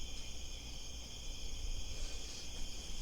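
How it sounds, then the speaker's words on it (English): Crickets chirp steadily in a continuous high trill, a soft night ambience at an outdoor encampment conjured by a Druidcraft spell in a tabletop game, with no talking. "I use Druidcraft to create the sound of crickets in the background."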